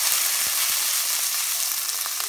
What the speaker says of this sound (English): I'm just heating a pan with some oil to fry my onions